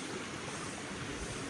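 Water in a stream flows as a low, continuous rushing wash. It is faint and steady, with no voices over it.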